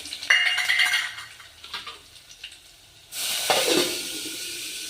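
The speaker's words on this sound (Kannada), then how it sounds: "ಗೋಲ್ಡನ್ ಕಲರ್ ಬರೋವರೆಗೂ ಫ್ರೈ ಆಗ್ಯಾವಲ್ಲ ಬೆಳ್ಳುಳ್ಳಿ" Crushed garlic frying in hot oil with mustard seeds and cumin, a soft hiss with light clinks of a utensil against the pan that swells into a louder, steady sizzle partway through.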